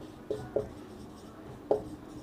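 A pen or chalk writes on a board during a maths class, three short scratchy strokes in quiet surroundings, close and fairly faint.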